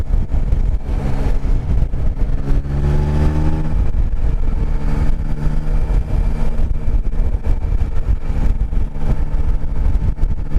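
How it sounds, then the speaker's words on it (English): A Yamaha Tracer sport touring motorcycle's engine hums loudly and steadily, then revs upward in a smooth rising sweep. Heavy wind rush runs throughout. "This is a great sounding engine."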